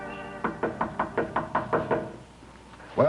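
A knock on a door, about eight evenly spaced raps in a brisk run, close and clear, followed by a short pause and then a louder sound at the end; no one speaks.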